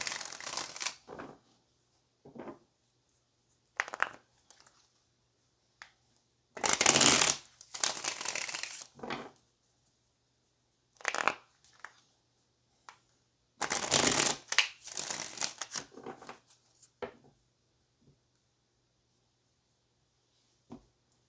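Tarot cards being shuffled and pulled from the deck, close and crisp. Several short flutters are followed by two longer bursts of riffling, with quiet pauses between them.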